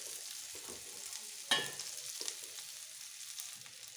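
Finely shredded cabbage with turmeric, chili powder and ambari masala is stirred in a pan, giving a quiet ongoing sizzle with soft scraping strokes and one sharp utensil clack near the middle; nobody speaks.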